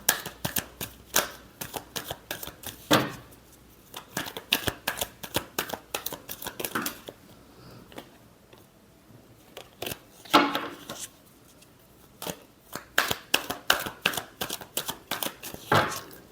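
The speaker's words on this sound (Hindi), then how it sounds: "Last shuffle." Tarot cards being shuffled by hand close up, a rapid series of crisp riffling and slapping bursts with short pauses between, otherwise quiet.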